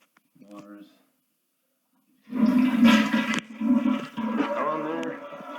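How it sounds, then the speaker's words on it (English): After a brief spoken phrase and a moment of silence, a toilet being fitted with a Fluidmaster all-in-one repair kit, its water supply shut off, flushes with a sudden loud rushing gush that swirls and gurgles close by to the end. "Now we're going to flush the toilet"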